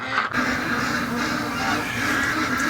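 Pet ducks keep up a loud, steady honking and quacking din nearby, with no voices over it.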